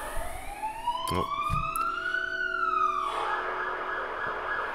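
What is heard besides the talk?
siren going past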